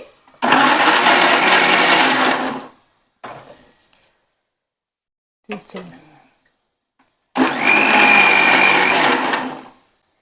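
A mixer grinder whirs loudly in two bursts of a couple of seconds each, with brief clinks and handling noises in the quiet between.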